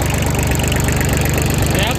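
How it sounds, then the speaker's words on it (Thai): Old Kubota 19 hp 4WD tractor engine running at a steady idle, loud and close, with a continuous low chugging beat throughout. "อาจจะมาทดสอบ19แรงคูบูต้าให้ดูครับนะครับเครื่องเดิมครับ"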